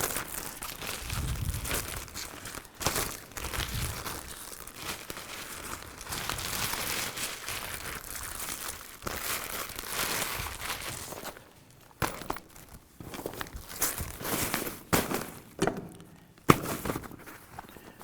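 Fabric photography light modifier folded and packed into its bag up close, a long stretch of rustling, crinkling and scraping with intermittent thumps and quieter pauses.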